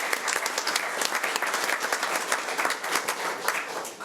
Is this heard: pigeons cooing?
no